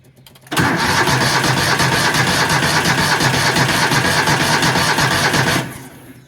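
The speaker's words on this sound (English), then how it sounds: "Well, she's cranking good, but she don't want to start." A car engine boosted by a 1000 amp jump pack cranks hard and catches, settling into a loud, steady running roar right up close for about five seconds before cutting off, with the choke off.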